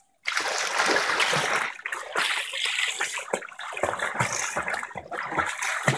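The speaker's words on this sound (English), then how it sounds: "I was going to film you swimming" A child swimming breaststroke in a pool, with close, busy splashing and sloshing water in repeated surges as arms and legs stroke, loud and continuous after a brief quiet start.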